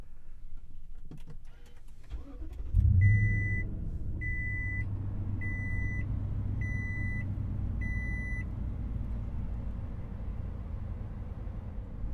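A Toyota Sequoia TRD Pro is started by push button: an engine turns over and settles into a low, steady idle, followed by five evenly spaced electronic chimes, heard from inside the cabin.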